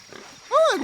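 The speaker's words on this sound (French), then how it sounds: "Oh, un gros cochon." A single short pig squeal-grunt rings out loud and close in Shadow of the Tomb Raider, following a brief quiet stretch.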